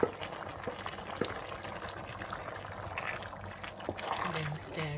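A pot of beans with shredded plantain and pepper mix bubbling on the stove, a steady low simmer with soft liquid burbles and occasional faint knocks, while a voice talks over it throughout.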